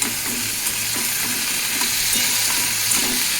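Cubed potatoes dropped into hot oil with lightly fried onion, nigella seeds and dried chilli in a Bengali kitchen, a loud continuous sizzle with occasional stirring scrapes close by, no voices.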